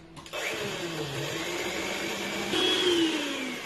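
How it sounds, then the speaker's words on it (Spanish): An electric mixer whirs on and beats cake batter with a steady motor whine that briefly rises in pitch and then eases off, loud and close, with no talking. "Volvemos a mezclar."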